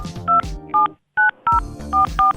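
A string of crisp telephone keypad tones beeps out a number, about eight short dual-tone presses in quick, uneven succession with a brief pause partway through, close and clear.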